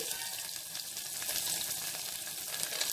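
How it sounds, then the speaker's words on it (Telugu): Thinly sliced long onion pieces fry in oil in a pan for green chilli tomato dal, giving a continuous, even, fairly soft sizzle with no talk. "ఈ ఉల్లిపాయ ముక్కల్ని బాగా వేగనివ్వాలి"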